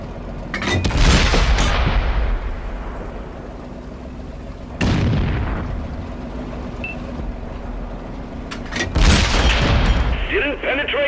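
Three heavy tank cannon blasts from an Ikv 65 Alt II boom in World of Tanks, each a sharp loud crack followed by a long rumbling decay, spaced several seconds apart over low engine noise.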